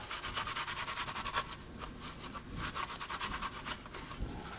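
A rag rubs down a Kydex holster in quick, close back-and-forth strokes, a rhythmic dry scuffing with short pauses and no talk.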